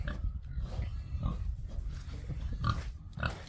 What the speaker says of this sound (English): This here's our youngest boar.